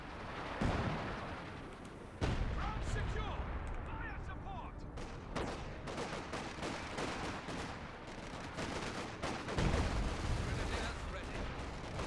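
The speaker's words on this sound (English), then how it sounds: "Support guns still firing over in this sector." Artillery and support guns fire nonstop in a Company of Heroes 2 battle, with dense booming blasts and rattling gunfire that run close and loud throughout, with a voice talking over them.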